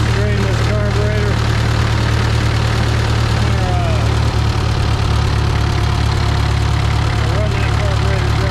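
Farmall MD tractor engine idling with its fuel shut off, letting the carburetor run dry; a loud, steady, rough low rumble with a rhythmic knock throughout and someone talking over it.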